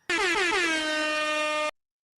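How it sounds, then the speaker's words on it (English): A single loud air horn blast lasting about a second and a half, with a strong brassy tone that slides slightly in pitch before cutting off abruptly into silence. "You get an air horn this time"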